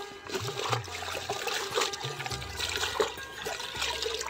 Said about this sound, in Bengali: বালতির মধ্যে এবার খুব ভালো করে ধুয়ে নেব